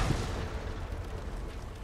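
A deep, rumbling explosion of a machine booms at once in the video game Horizon Forbidden West, then trails off into a low, noisy roar lasting under two seconds.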